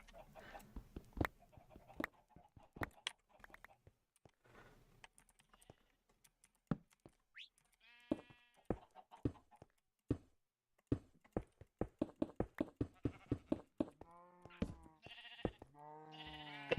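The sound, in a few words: sheep bleating in Minecraft video game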